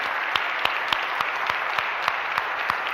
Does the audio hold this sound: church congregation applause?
yes